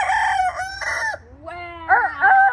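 A chicken on a farm crows loudly and close by in a few drawn-out calls, followed by quick clucking, with no talk over it.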